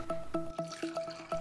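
Water sloshes and drips in quick, repeated bursts as lentils are rinsed and swirled in a bowl close by.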